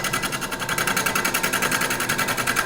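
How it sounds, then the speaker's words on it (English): A wood lathe roughs out a cherry bowl blank that is not yet flat. A steady motor whir carries rapid, evenly pulsing chatter throughout, close and fairly loud, with no talk. "So lathe on."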